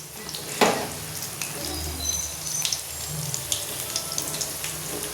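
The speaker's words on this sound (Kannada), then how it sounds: "ಯಾಕಂದರೆ ಬೆಂಡೆಕಾಯಿ ಒಳಗೆ ಇನ್ನೂ ಸ್ವಲ್ಪ ಫ್ರೈ ಆದಂಗೆ ಆಯ್ತಲ್ಲ, ಅವಾಗ ಇನ್ನೂ ರುಚಿ ಬರುತ್ತೆ ನೋಡಿ." Okra bonda fritters fry in hot oil with a steady hiss and scattered crackles and pops, heard close and fairly quiet.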